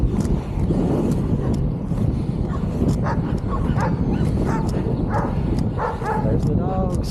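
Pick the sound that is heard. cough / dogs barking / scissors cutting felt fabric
dogs barking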